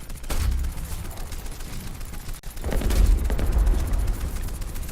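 Naval guns fire in a War Thunder sea battle, two loud booming salvos a couple of seconds apart with rumbling tails, over constant engine and sea noise.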